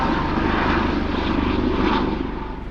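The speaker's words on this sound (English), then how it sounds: "There goes our chopper again." A helicopter passes overhead near the historic harbor defenses of San Francisco Bay, a loud steady rotor and engine drone that thins slightly as it moves off, with no talking.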